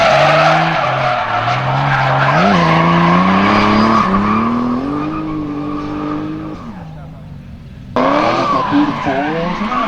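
A drift car at a Bíladagar 2024 event in Iceland skids with loud squealing tires while its engine revs up and down, close and continuous, with a brief dip before the screech resumes.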